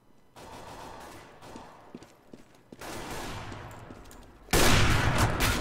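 Gunfire from sniper rifles in the Counter-Strike video game comes in sharp, noisy bursts of varying loudness, with a loud blast near the end. Nobody speaks over it.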